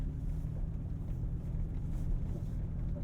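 A 2022 Toyota Tacoma TRD Pro with Fox 2.5-inch internal bypass shocks and aired-down tires drives over a choppy road, giving a steady low rumble of engine and road noise throughout, close and continuous.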